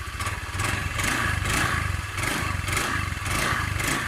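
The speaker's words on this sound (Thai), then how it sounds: "เครื่องดีนะครับเงียบนิ่มเลยนะครับผม" Honda Click 110i scooter engine idling smoothly and quietly at close range, a steady low hum with faint rhythmic pulsing throughout.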